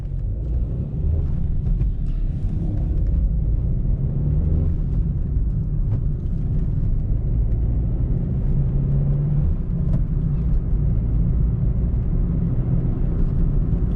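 A car cruises at speed in fifth gear, a steady low engine and road rumble held at constant loudness throughout, with no talk.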